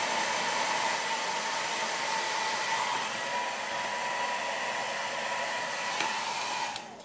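A hair dryer on low heat blows down over natural hair pulled taut, a loud, constant close-up rush of air that runs steadily for several seconds before cutting off near the end.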